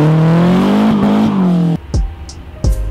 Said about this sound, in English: the red car is always going to be the loud one